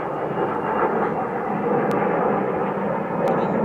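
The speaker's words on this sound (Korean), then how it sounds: "여기가 이게 비행기가 많이 다녀요." A fixed-wing airplane passing overhead in a city with heavy air traffic, a loud continuous broadband engine roar that holds steady throughout with no speech.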